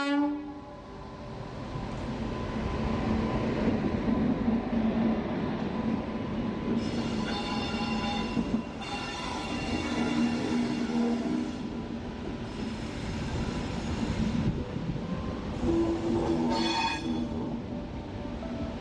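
Chikkamagaluru–Tirupati train pulling into platform 5 at Birur junction, a tree-lined station, with a steady rolling rumble and several long, loud horn blasts.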